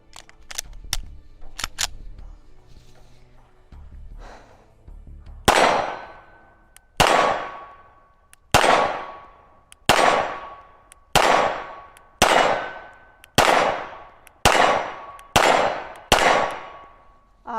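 Pistol shots from a CZ fired at steel targets on an outdoor shooting range ring out, about nine loud cracks at a steady pace, each with a sharp metallic clang and ringing tail, after a few lighter clicks and handling noises.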